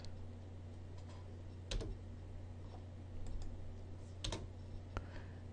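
A computer keyboard typed on in a quiet room gives sparse, faint clicks and short clusters of key taps over a low steady hum.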